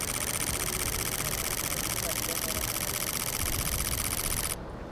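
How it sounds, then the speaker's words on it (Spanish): A Fujifilm X-H2S camera fires a 15 frames-per-second shutter burst, a dense, rapid, even mechanical ticking held close and loud for over four seconds before stopping abruptly. "Mirad cómo suena una ráfaga de 15 fotos por segundo"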